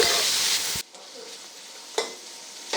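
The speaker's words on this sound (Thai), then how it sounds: "เอาหมูสามชั้นที่หมักไว้ใส่ลงผัด เราเจียวให้น้ำมันหมูออกมาอีกเล็กน้อยค่ะ" Marinated pork belly stir-fries in hot oil over medium heat, a loud steady sizzle that drops sharply to a quieter crackle, with a spatula scrape and a brief flare near the end.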